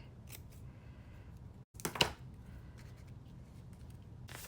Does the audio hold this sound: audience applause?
no